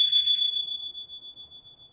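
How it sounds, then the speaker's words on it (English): A single sacred bell is struck once and rings alone, its clear high tone slowly fading over about two seconds. "we're going to start with the ringing of the bell"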